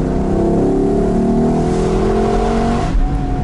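A Lexus LC 500 convertible engine revs loudly to about 6000 rpm and holds a high, strained whine, then suddenly drops off near the end.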